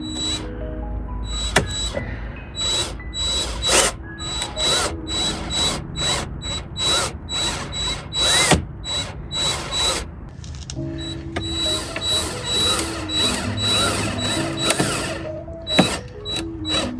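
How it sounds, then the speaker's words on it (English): A power drill driving self-tapping screws beneath a BMW E46 M3, heard as repeated short whirring bursts with clicking and ratcheting between them, close and fairly loud, with no talking. "we're gonna start drilling in some self-tappers"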